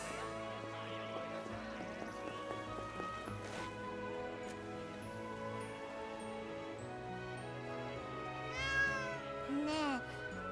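Cat meows heard in the video game Granblue Fantasy Relink, a couple of mid-level cries near the end of the clip over steady game music and ambience.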